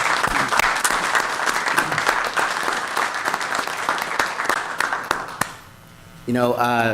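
Audience at a city council meeting applauds city staff, steady crowd clapping for several seconds that dies away, then a voice starts speaking near the end.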